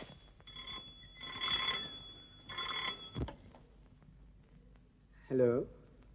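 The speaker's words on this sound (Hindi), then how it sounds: "ये उसी का फोन होगा" An old telephone bell in a 1952 Hindi film scene rings in two short bursts, fairly close, then falls quiet before a brief vocal sound near the end.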